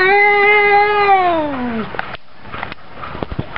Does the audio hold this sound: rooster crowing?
no